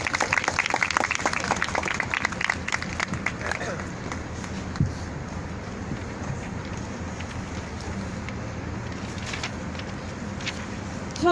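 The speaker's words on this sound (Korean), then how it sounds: "박수 부탁드립니다." Crowd applause breaks out at an outdoor Wednesday protest rally over Japanese military sexual slavery, dense clapping loudest at first and then thinning into a quieter wash of crowd noise.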